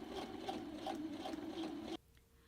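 A sewing machine runs close by while stitching the pocket of a pair of shorts, a fast steady whirring with rapid needle pulses that stops abruptly near the end, leaving quiet.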